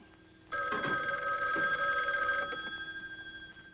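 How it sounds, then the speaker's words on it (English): An old-fashioned telephone bell rings loudly on a classic radio comedy broadcast, one sustained metallic ring starting sharply after a brief pause and fading into a rhythmic trailing jangle. "Rochester, answer the phone, please"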